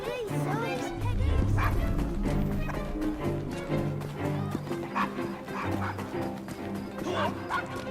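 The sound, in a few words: dog barking in Assassin's Creed Syndicate video game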